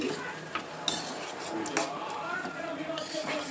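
A spoon stirs a bitter gourd chutney mixture of onion, garlic, jaggery and salt in a pan, making soft scraping and clinking sounds at close range.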